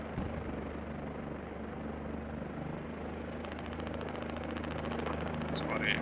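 A helicopter in a military video game, set on a coastal battlefield with Chinese and American marines, drones steadily with continuous rotor noise, joined in the latter half by rapid machine-gun fire and scattered distant shots.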